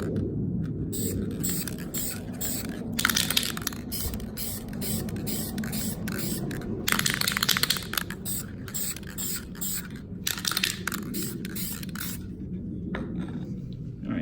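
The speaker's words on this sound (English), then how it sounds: "clear coat spray polyurethane. And my hope is that will seal them so they don't pop off after a while." Aerosol can of clear coat polyurethane spraying onto car emblem badges, a steady close hiss in several bursts with short pauses, moderately loud over a low background rumble.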